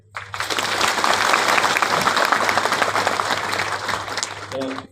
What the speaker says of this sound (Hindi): एक बार आप ताली अपने लिए बजाइए